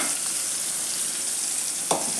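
Finely chopped shallots sizzle steadily in hot oil in a pan, a dense continuous frying hiss with a soft stir or scrape near the end.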